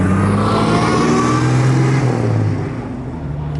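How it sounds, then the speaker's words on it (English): A race car at a Nürburgring demo day accelerates hard nearby, its engine and howling gears loud and continuous, shifting as it pulls away and then easing off. "listening to it there, the gears howling away and him shifting gears"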